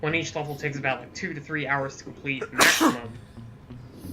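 A single loud sneeze bursts out over ongoing casual talk during Sly 2: Band of Thieves gameplay commentary, with speech continuing before and after.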